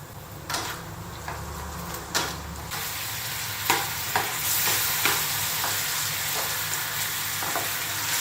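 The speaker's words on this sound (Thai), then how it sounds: "เสร็จแล้วเราก็เอา 3ชั้นที่เราหั่นเอาไว้อะค่ะ มาผัดลงในซอสเลย" Pork belly stir-frying in a Thai braising sauce, a steady close sizzle with repeated scraping clicks of the spatula against the pan, alone without talk.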